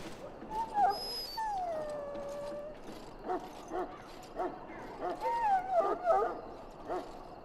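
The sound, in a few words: dog in a pen, from the video game Dragon Age: Origins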